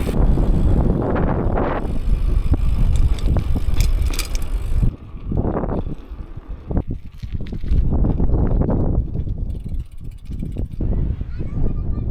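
Bicycle ridden fast on Rottnest Island, with heavy wind rush roaring over the microphone and rattling chain and frame noise, easing briefly partway through before building again, while a rider speaks now and then.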